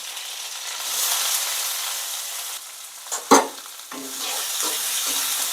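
Onion, dried red chillies and curry leaves sauté in hot oil for a Tamil brinjal kothsu, giving a steady close sizzle with a brief sharp clink of stirring partway through.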